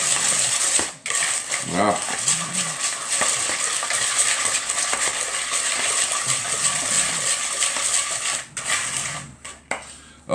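Yogurt cake batter with flour is stirred in a bowl with a utensil, giving close, continuous scraping and swishing, briefly broken by short pauses and a single spoken word.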